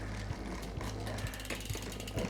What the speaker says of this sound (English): I can hear and I can see that the jockey wheel is actually touching the cassette